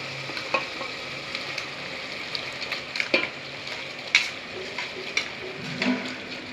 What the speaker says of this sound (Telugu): ఇప్పుడు ఇది ఉడికించిన పాస్తా వేసేసుకోవాలి